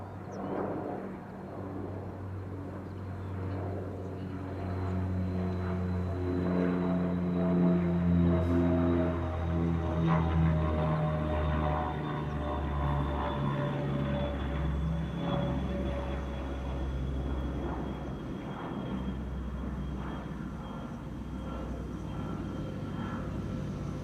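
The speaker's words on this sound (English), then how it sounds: "Here's the Dash 8-100 from the Dutch Coast Guard. Still with a Canadian registration. Just took off from runway 22 and now turning to the west for a coastal patrol." A Dutch Coast Guard Dash 8-100 turboprop climbs out after takeoff and turns away, its steady propeller drone and engine whine swelling to a peak and then easing off slowly as it recedes, with no voices.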